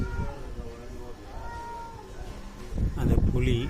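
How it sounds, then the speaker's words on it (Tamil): A house cat meows a few times, drawn-out calls close by, with a person talking over and around them and a louder burst of sound near the end. "ஒரு பூனை தான் இது."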